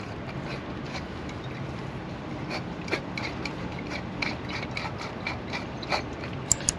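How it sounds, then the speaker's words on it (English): A fuel canister is fitted and locked into a multi-fuel camping stove, giving a series of quiet metallic clicks, scrapes and ratcheting taps close by, with no talking. "So I get my canister with fuel, lock it in here."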